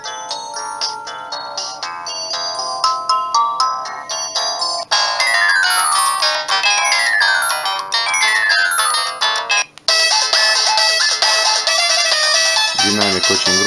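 Samsung C110 mobile phone ringtone playing a loud, bright polyphonic melody through its built-in speaker, with rising note runs and a steady sustained texture, alone with no talking.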